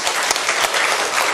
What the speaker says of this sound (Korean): 우리 정준익 군한테 한번 박수 한번 쳐주세요.